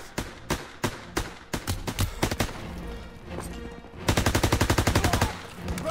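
Suppressive gunfire in Call of Duty WWII: a loud run of sharp gunshots, spaced bursts early on, then a tight rapid machine-gun stream near the end, with no voices over it.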